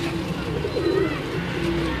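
Sialkoti pigeons coo softly at close range from a rooftop loft, with low repeated throaty calls under light background noise.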